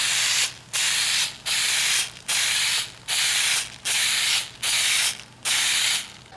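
Eight short bursts of aerosol oil spray hiss onto an air filter in a steady rhythm, each lasting about half a second with brief pauses between, close and fairly loud.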